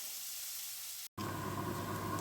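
A steady hiss of onions sizzling in a frying pan fills the clip, broken by a brief silent gap before the frying noise resumes, close and continuous.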